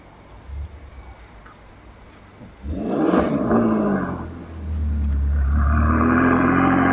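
A California sports car with its original exhaust accelerates away at a rally. After a quieter start, the engine note swells loudly, dips briefly, then surges again into a sustained deep roar nearby.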